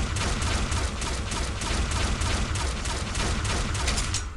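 Crossbow shots in Pixel Gun 3D come as a dense, loud, continuous barrage of rapid repeated firing that keeps up throughout.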